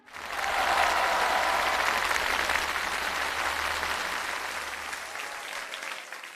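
Sustained applause from an audience at a crosstalk comedy performance, rising quickly and holding steady for several seconds before slowly tapering off.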